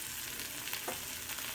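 Green peppers and onions sauté in a cast iron pan with a steady, close sizzle and faint stirring scrapes, alone without talk.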